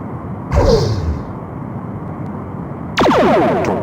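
Two starship torpedo launches whoosh and sweep out loudly, one early and one later, each with a falling, pulsing tone, from space combat in Star Trek: The Next Generation – A Final Unity.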